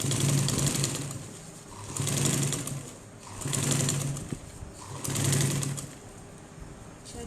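A sewing machine stitches the lining of a crochet bag in four short bursts of whirring, with brief pauses between runs, close and fairly loud.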